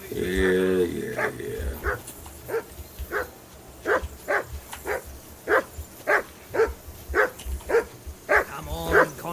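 A dog in the medieval video game Kingdom Come Deliverance 2 gives a steady run of sharp barks, roughly one a second, moderately close, mixed with game voices and a player's talk.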